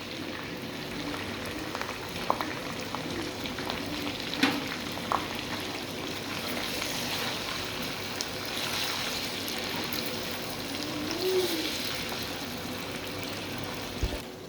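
Onion and tomato paste frying in a pan for bhuna chicken masala, giving a steady, even sizzle and bubbling hiss throughout with a few faint clinks.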